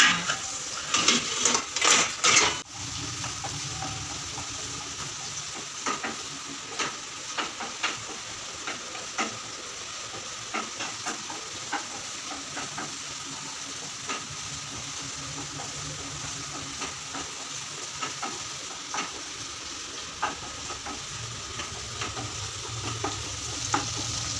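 Onions and spices frying in a pan, a loud dense sizzle that opens with a burst of stirring clatter, then settles into a steady hiss broken by occasional spatula taps, without any speech.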